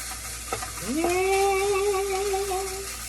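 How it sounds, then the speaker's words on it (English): Rice frying in a pan with garlic and onion while being stirred, a close, loud sizzle with scraping stir strokes and a bright ringing tone that fades, no speech. "we're just mixing that rice up with that garlic and that onion"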